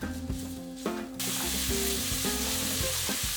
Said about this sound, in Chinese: 同时炒锅里面下肉末。